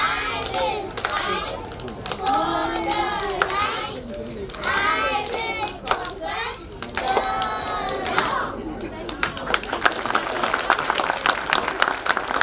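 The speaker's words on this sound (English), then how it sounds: "Could you please give a big round of applause to welcome them?" Children shout and cheer excitedly at a school annual day performance, the noisy crowd mixing with scattered clapping that builds into a denser burst of applause near the end.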